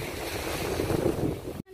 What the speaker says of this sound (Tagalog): And ito na yung dagat.